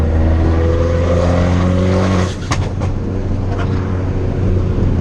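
Close and loud, a turbocharged Fiat widebody car is driven hard. The engine drones in steady harmonics, then backs off with a short burst of exhaust crackle and turbo flutter before the revs pick up again.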